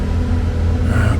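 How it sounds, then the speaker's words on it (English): A generator outside kicks on and climbs into high gear, giving a steady low rumbling hum with a rising whine near the end, fairly loud and unbroken. "I hear the generator kicking on out there, going into high gear."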